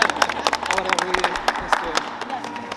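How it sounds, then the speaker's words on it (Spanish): A scattered round of clapping from a small group at a wedding Mass, brief and close, with voices mixed in. "Un aplauso para nosotros."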